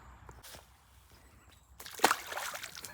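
A released carp belly-flops into lake water, a single loud splash near the microphone with a brief spray of sloshing afterwards, following a quiet stretch of faint lakeside background.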